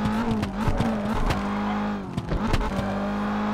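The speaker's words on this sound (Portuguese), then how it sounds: "drift de alta velocidade" High-speed car drift in Forza Horizon, a revving engine whose pitch climbs and dips over sharp bursts of tire squeal, loud and close, no talk.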